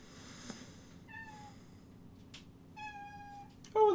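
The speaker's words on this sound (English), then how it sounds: "Oh, and the cat's come to say hello." A house cat meows twice, two short clear tonal calls about a second and a half apart, close by over a quiet room background.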